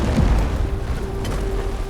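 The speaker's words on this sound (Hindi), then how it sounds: "वो पूरा घर एक भयानक धमाके के साथ राख का ढेर बन जाता है।" A house blowing up gives a deep, heavy boom at the start that rolls into a long, dense rumble with no other sounds over it.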